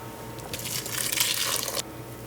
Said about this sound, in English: Strain most of the gunk out of there and then pour this into a cheesecloth.